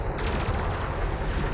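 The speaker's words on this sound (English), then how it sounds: "There's a lot of gunfire happening here." Dense, rumbling gunfire from the space game Elite: Dangerous crackles continuously, a busy mix of overlapping shots and booms at moderate loudness with no clear gaps.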